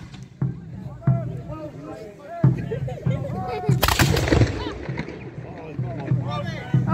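Musket and cannon fire at a Civil War reenactment at Nottingham Castle: several sharp reports, spaced out, with one big blast near the middle. A voice carries on faintly between the shots.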